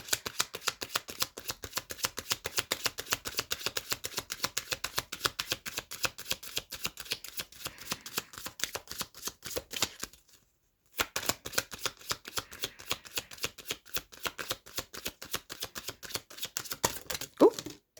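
Romance angel oracle cards being shuffled by hand, a fast papery riffling and flicking that runs almost continuously, pauses for a moment, then resumes close and soft.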